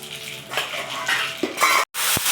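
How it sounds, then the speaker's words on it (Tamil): Mustard seeds and urad dal fry in hot oil in a home kitchen pan, giving a hissing sizzle with scattered crackles and pops, mixed with clinks of a metal spoon stirring against the pan. "அடுத்தது கடுகு 1 ஸ்பூன் போட்டிருக்கா. இது வந்து கடுகு நல்லா வெடிக்கட்டும்."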